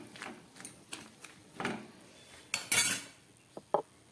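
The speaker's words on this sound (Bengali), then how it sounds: "এই গরম জলের মধ্যে এই মাশরুমগুলোকে আমি দিয়ে দিচ্ছি।" Mushrooms tipped into a pot of hot water on a gas stove while cooking a Bengali mushroom dish, giving scattered light clinks and soft rustles, then a louder clattering burst and two short knocks near the end, with no voices.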